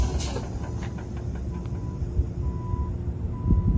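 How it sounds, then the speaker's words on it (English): A roll-off garbage truck backs in a load of municipal solid waste on a waste yard, its reversing alarm sounding as repeated steady beeps over a constant low engine rumble, fairly distant. "We've got a roll-off truck backing in a load of MSW"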